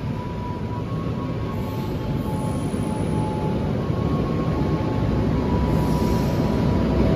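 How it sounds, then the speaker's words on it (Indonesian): Turangga passenger train with a panoramic car departing, a continuous heavy rolling rumble of wheels on rails with a faint steady tone above it, loud and unbroken for the whole stretch with no voices. "Turangga berangkat kembali dan di belakang sendiri sepertinya ada panoramik."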